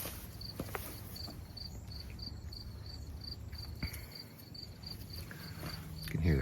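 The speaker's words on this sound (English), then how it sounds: "You can hear the crickets." Crickets chirp in a steady, regular pulse outdoors in a garden on a cloudy morning, faint against a low background hum, with a few rustling steps.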